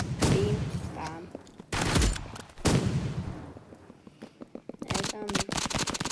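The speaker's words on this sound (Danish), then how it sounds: "Ja, min bazooka frem." Bazooka blasts in the Roblox shooter Rivals, several loud booming shots at irregular intervals with broadband bursts, mixed with other game effects under a voice talking.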